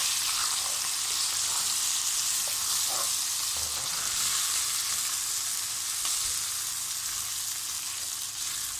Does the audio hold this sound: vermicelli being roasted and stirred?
yes